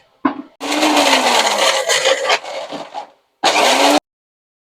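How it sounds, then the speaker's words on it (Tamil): A mixer grinder whirs loudly as it grinds coconut in short bursts. A long, steady grinding run is followed by a brief pause, then another shorter burst, with the motor pitch dipping as it works through the coconut. "தேங்காய் கொஞ்சம் அரைச்சிட்டு"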